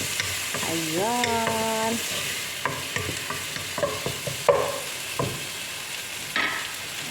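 Chopped tomatoes hit hot oil in a home kitchen pan and get stirred, a steady sizzle with scraping utensil clatter and soft knocks, with a brief spoken word partway through.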